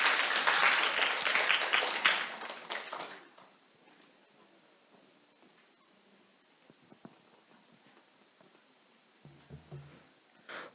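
Congregation applause in a Korean church during Sunday worship welcoming a middle-school student speaker, loud for about three seconds and then dying away into quiet room noise with a few faint knocks and shuffles.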